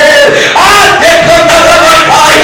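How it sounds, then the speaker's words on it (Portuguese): A church congregation at a worship service shouts and claps together, a loud, dense crowd roar with rising voices and no break. "o grito não é de loucura, o grito é de adoração. A palma não é a loucura, as palmas são para adorar o Senhor."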